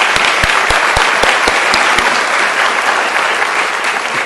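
A room full of people at a commission meeting gives the staff a round of applause, a loud, close, sustained clapping with several sharp individual claps standing out early, continuing evenly to the end.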